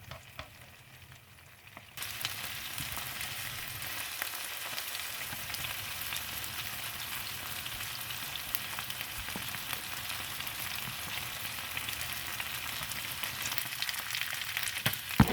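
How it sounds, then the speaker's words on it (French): Chicken sizzles with garlic and shallot in a pan over high heat. After a quiet start, a loud, steady crackling hiss sets in suddenly and holds, with occasional pops and stirring scrapes. "Et maintenant, on va augmenter le feu pour sauter."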